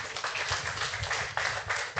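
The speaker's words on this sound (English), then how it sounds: "Another round of applause for" Conference plenary audience applauding a panel team, a fairly quiet, steady patter of many hands clapping in a hall, slightly uneven in intensity across the burst.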